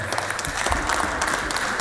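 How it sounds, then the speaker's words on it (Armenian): Audience applause at a stand-up comedy show, steady dense clapping from a crowd throughout, fairly loud and sustained without pause. "մի հատ ծափ արեք, խնդրեմ"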